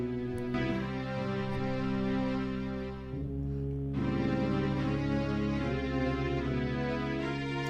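Slow, sacred orchestral cutscene music from the opening of a Zelda game, the Deku Tree theme, with sustained chords played steadily throughout, dipping briefly to a softer passage before swelling back.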